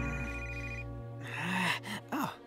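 A mobile phone rings in a children's animated construction show: a steady electronic ringtone plays for about a second, then gasps and exclamations follow over a low hum.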